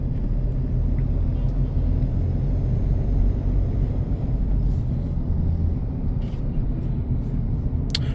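Mahindra XUV700 diesel base model driving at low speed in third gear, a steady low cabin rumble with faint engine drone and occasional light clicks, continuous throughout.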